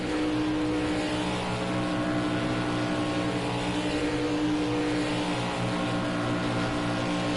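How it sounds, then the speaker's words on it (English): A NASCAR race car in the Project Cars 2 video game at Daytona holds a loud, steady engine drone with no pauses, sustained at high revs throughout. "right now, you're seeing a car come up on the track here."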